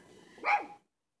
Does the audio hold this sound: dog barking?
yes